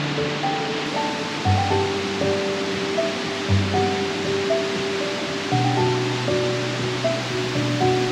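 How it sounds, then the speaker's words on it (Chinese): A large 78-metre waterfall at Plitvice Lakes National Park in Croatia gives a steady, dense roar of falling water throughout, with tonal music playing over it. "高达78公尺的大瀑布是园区内最大的瀑布。"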